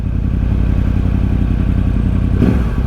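A Yamaha R1 motorcycle engine drones steadily at close range on a night ride with a low, rough rumble and howling noise, rising briefly near the end.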